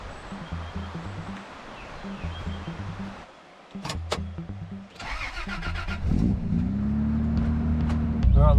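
A four-wheel drive with a bull bar starts up in rugged high country, its engine turning over after a few knocks and then settling into a steady, loud idle and rev as it prepares to pull away, close by.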